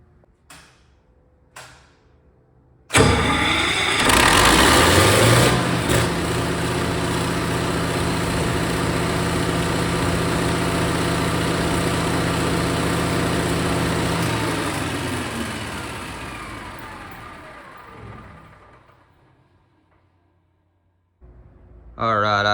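A Caterpillar 3412 V12 diesel engine catches after a few clicks, then roars loudly and steadily close by before winding down and going quiet, with a brief noise at the very end.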